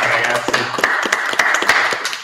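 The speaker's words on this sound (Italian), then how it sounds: "applauso a Leonardo" A small group claps for Leonardo at the Ghirada rugby training ground, with distinct, uneven individual claps close by rather than a dense crowd roar, and some voices mixed in.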